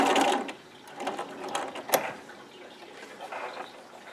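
Sewing machine running in short bursts while back stitching at the end of a seam on a patch pocket, a few quick mechanical runs with pauses, close and fairly loud.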